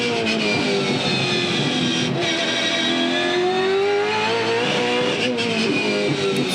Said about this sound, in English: So all these second gear corners, you can hear the car just completely runs out of breath. It's fully rev limited at that point